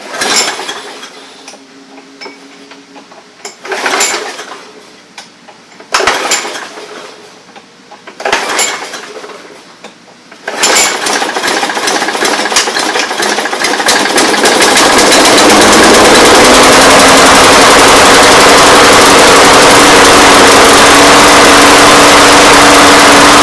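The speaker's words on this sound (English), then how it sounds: "Let's go ahead and pull the handle and see what we have." Troy-Bilt lawn mower that had been failing to start, with several pull-start attempts in bursts before the engine catches and runs steadily, loud and close, with no talk over it.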